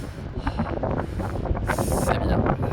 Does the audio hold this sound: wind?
yes